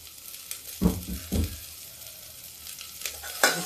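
Onions fry in a pan for chana dal with pumpkin, a faint low sizzle with a few distinct stirring thumps and scrapes against the pan, close and without talk.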